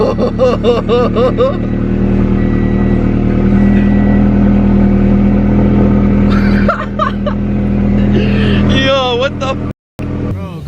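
Turbo Subaru BRZ with a Tomei exhaust revving loudly up close, a deep droning engine note with sharp rising and falling rev sweeps, with voices talking over it and a brief cutout near the end.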